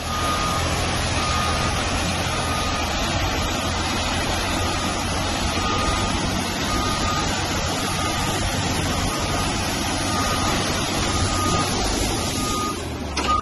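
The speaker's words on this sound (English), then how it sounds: "this truck driver lays gravel on the muddy road in mere seconds" A truck spreading gravel across a muddy road gives a steady loud engine rumble and a gritty rush of stone, with a regular reversing alarm beeping throughout, close and continuous.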